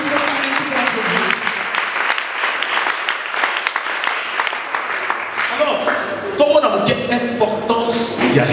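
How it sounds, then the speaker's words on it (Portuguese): A church congregation applauding, dense sustained clapping that grows louder and busier toward the end, with cheering voices mixed in throughout. "Vai aplaudir totalmente para Jesus."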